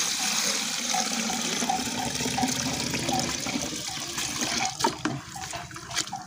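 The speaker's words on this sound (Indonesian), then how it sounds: "Untuk takaran airnya, pastikan krokotnya itu terendam semua." Water pours steadily into a container to soak krokot (purslane) for a jakaba preparation, a continuous close splashing fill that turns more irregular and gurgly toward the end, with no talk.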